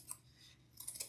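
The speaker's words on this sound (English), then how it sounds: "And I'm just cutting directly along the edge" Scissors cut along the edge of craft material for a no-sew Pilgrim turkey Thanksgiving wreath attachment, giving faint, close snipping and crisp rustling clicks in a brief burst, with no talk over it.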